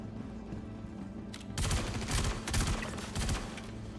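Shotgun blasts in a space-themed video game fire in a few quick, booming bursts after a quiet opening, fairly soft overall and without speech.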